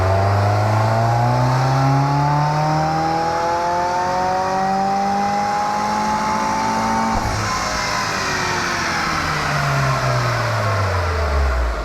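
A Subaru's loud exhaust during a protune: the engine climbs steadily to a high rev, then drops back and slowly builds again, a strong, close, continuous roar with no voices.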